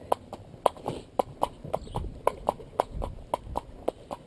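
Hooves of a horse wearing a fly rug clip-clop in a steady walking rhythm, about fifteen sharp, close knocks, with faint low rumble between steps.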